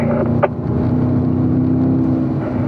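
A Corvette on the Spring Mountain race track accelerating downhill in fourth gear, a loud steady engine drone close up with a brief higher whine near the start.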